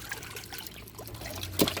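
Water trickles and drips from a basin of live crabs in short, uneven splashes, with a louder spatter near the end against faint background noise.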